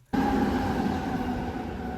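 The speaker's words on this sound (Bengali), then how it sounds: "হঠাৎ করে কিন্তু ট্রেন চলে আসছে" An electric train sweeps past at an Italian station, its steady broadband roar and low rumble arriving suddenly out of near silence and holding loud and close for the rest of the moment.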